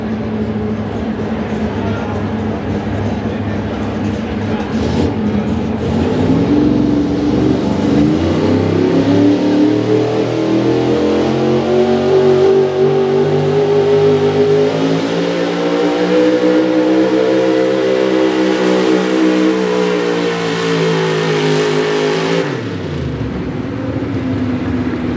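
A 1972 Chevrolet 4x4 pulling truck with a big-block high-output engine roars loud and close at a tractor pull, its pitch climbing and holding at high revs for about twenty seconds before cutting off abruptly.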